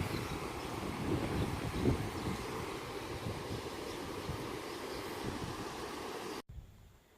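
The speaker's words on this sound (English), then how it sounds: "there's definitely another waterfall in there, you can hear it." A distant waterfall in the Cape York bush gives a steady broadband roar that holds even for several seconds, then cuts off abruptly near the end. A faint, quieter background remains afterwards.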